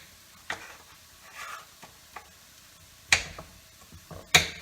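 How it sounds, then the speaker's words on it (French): Mushrooms, rice, courgettes and onions cook in a pan for risotto, with soft stirring scrapes and a low sizzle broken by several sharp utensil clinks against the pan. "Nous allons pouvoir rajouter nos derniers champignons dans notre mélange de riz"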